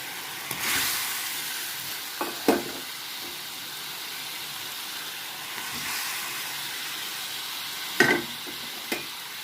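Fried paneer and boiled potatoes sizzle in a spice mix in a pan, a steady hiss broken by occasional scraping clatters from stirring.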